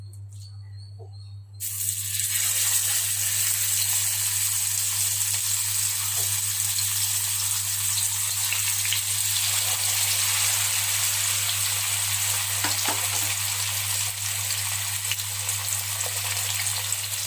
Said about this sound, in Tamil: நம்ம இப்போ மீனை வறுத்துடலாம்.